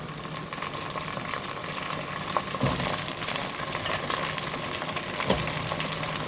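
Steady sizzle of eggplant frying in hot oil, a dense crackling hiss with a couple of soft clanks from a utensil, no voices.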